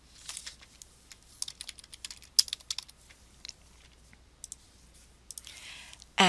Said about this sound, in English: I'll type in the name of the database